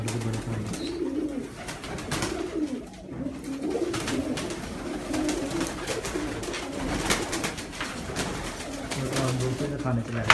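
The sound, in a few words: pigeons cooing on a rooftop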